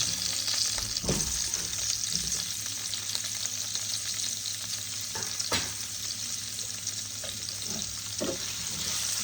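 Chopped tomatoes frying in a pan of ghugni (dried peas), a steady loud sizzle throughout with a few sharp clacks of a spoon against the pan, no voices.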